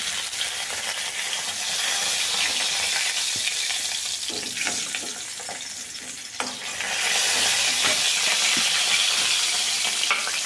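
Koi fish frying in hot oil in a pan, a steady loud sizzle with stirring and scraping throughout, briefly dipping midway before resuming.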